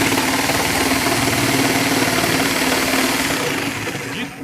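A reciprocating saw cuts all the way through wood, its blade jumping in the cut. The motor drone is loud and steady, then eases off slightly near the end.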